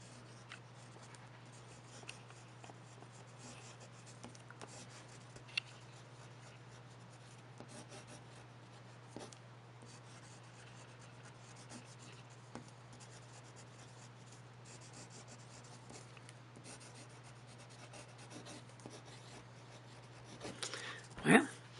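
A Duke Uranus U78G fountain pen writes steadily on Rhodia lined paper, a quiet continuous scratching and rubbing of the nib that runs throughout, close to the microphone, under a faint steady hum.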